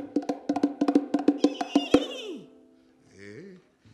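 A voice imitates a horse galloping, giving a quick run of about a dozen clipped, rhythmic clop sounds that grow louder and end in a sharp accent, then a short voiced tail and a faint trailing sound.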